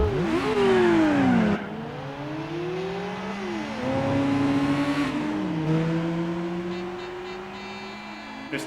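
Race car engines roar and rev through gear changes during a Gran Turismo 4 replay, loud and continuous, with pitch sweeping up and down as cars accelerate and pass.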